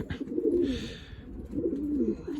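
Racing pigeons cooing nearby, two rolling low coo phrases separated by a short gap with faint flutter-like noise between, close and clear with no talk.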